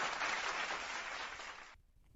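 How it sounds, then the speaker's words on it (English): A burst of applause from a group, steady and fairly full, then cutting off abruptly near the end. "clap it up for Victor Mansamula."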